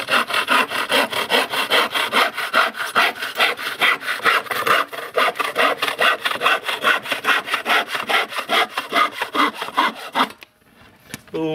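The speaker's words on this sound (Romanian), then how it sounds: "Hai să ne apucăm să tăiem capătul ăsta urât." Hand saw cutting the rough end off an old wooden floorboard during a mountain cabin floor restoration, steady rhythmic back-and-forth strokes, close and loud, for about ten seconds before stopping.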